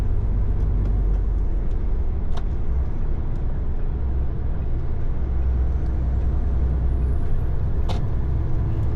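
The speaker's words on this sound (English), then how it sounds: "I thought that truck was slowing down" Heavy road traffic rumbles steadily close by, with a truck's air brakes giving two short hissing bursts as it slows. There is no talking.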